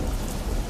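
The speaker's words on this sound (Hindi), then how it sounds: "सिर्फ तूफान की आवाज गूंज रही थी।" A thunderstorm pours down heavy rain in a dense, loud, continuous wash of noise with a low rumbling underneath.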